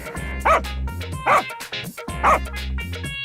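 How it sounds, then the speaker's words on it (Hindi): A dog barks loudly three times in a slow, evenly spaced series, close and forceful. Softer yips and whimpers sound between the barks. "कुत्ता सनकी लाल के पास जाकर जोर से भौंकने लगता है।"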